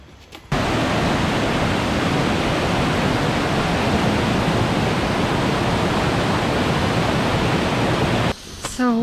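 The Goa Rang waterfall in Ubud, Bali roars loud and close, a dense, unbroken rush of falling water that fills the scene almost from start to finish.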